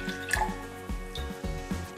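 Tea poured into a container while making a homemade boba drink, a soft liquid trickle and dripping running through the two seconds, with faint background music underneath.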